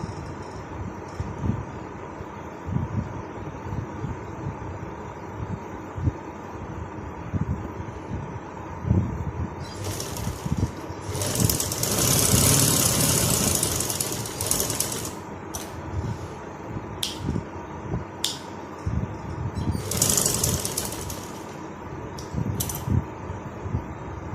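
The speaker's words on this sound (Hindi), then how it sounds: "स्टार्ट में भी पक्का करेंगे और एंड में भी सिलाई को पक्का करेंगे।" A sewing machine stitches a simple frock, a steady rapid mechanical chatter that runs throughout and rises in a few louder, faster bursts of stitching.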